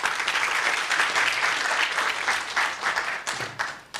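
Sustained applause from an audience at an academic quality forum, dense clapping filling the whole stretch at steady loudness with a slight dip near the end.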